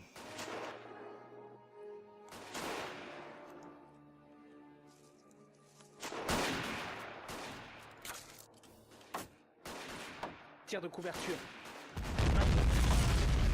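Rifle shots and explosions ring out in the World War I strategy game Battle of Empires 1914-1918, with several loud, sharp bursts separated by quieter gaps and a heavy blast at the end, while someone talks over the action.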